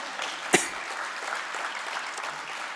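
An audience at a talk claps in a soft, steady round, with one sharp louder clap standing out early.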